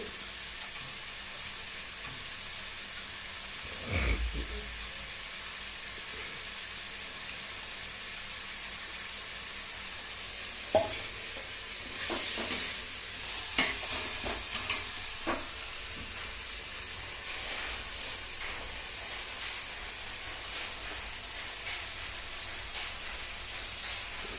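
Tamarind is stirred into a simmering homemade fish curry, a soft, steady hiss and bubbling with occasional spoon scrapes and clinks against the pot, close and continuous without talk.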